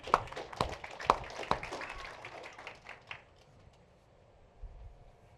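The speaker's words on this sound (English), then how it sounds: "Give him a big round of applause." An audience gives a short burst of clapping for a volunteer at a tech community event, several distinct sharp claps in the first few seconds that thin out and fade to quiet room noise.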